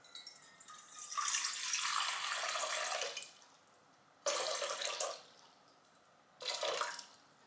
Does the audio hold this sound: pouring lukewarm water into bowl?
yes